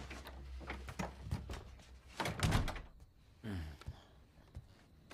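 A door swung shut with a heavy thud and slam near the middle, amid indoor bumps, footsteps and rustling, followed by quieter handling sounds.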